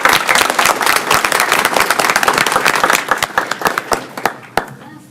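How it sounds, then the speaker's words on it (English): A room at a school board meeting breaks into loud, dense applause for a student, many hands clapping together before thinning to a few scattered claps at the end. "Can we give Dynasty a round of applause too?"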